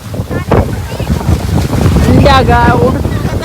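Strong wind gusts roar and buffet the microphone during heavy rain at Nellarachal, a dense, loud rumble throughout, with a person speaking briefly over it.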